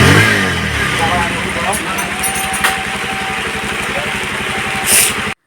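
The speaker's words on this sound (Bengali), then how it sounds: "তো চলো বন্ধুরা, এখন বাইকটা স্টার্ট দিয়ে দেখে নিই।" A motorcycle engine runs with a steady, throbbing pulse and a rise in revs, loud and close, ending abruptly.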